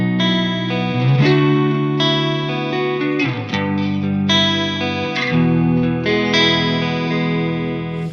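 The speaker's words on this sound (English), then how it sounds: "So now I have a super modulated reverb with my first one." Sustained, shimmering guitar chords played through a heavily modulated reverb effect, each chord swelling and wavering with chorus-like movement before the next change, with no voices.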